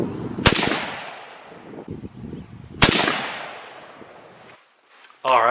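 A .243 rifle firing Norma Whitetail ammunition at a range, two sharp, loud shots a couple of seconds apart, each trailing off in a fading echo, with a faint voice near the end.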